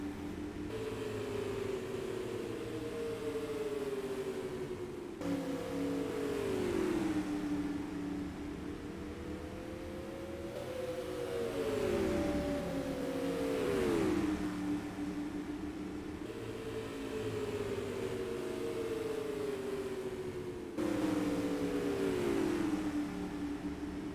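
Non-wing supermodified race cars circle an oval track. Engines rise and fall in a repeating pattern as each car passes about every five seconds, giving loud, high-revving howls with Doppler sweeps.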